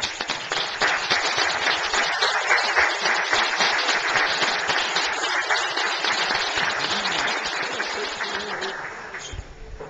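Standing ovation from council members and the public honoring honorees at a municipal council session, sustained dense applause from a large room that holds steady for several seconds before gradually thinning and fading.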